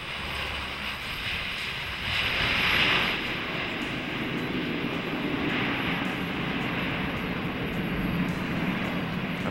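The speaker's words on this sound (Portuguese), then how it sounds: "Apesar do tamanho, o avião para em poucos metros." An airplane landing on a snow-covered Antarctic runway 1,200 metres long and 30 metres wide, heard as a steady, loud engine roar with wind rush that swells slightly midway and holds without letup.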